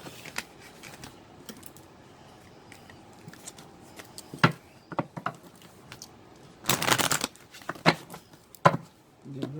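Soft clicks and taps of tarot cards being handled, then a brief crisp riffling shuffle and a few more snaps close by.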